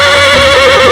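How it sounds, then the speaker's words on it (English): Horse neighing before a joust in a video game, one loud, close, sustained whinny filling the whole moment with no talk. "Horses paw impatiently as the knights lower their lances."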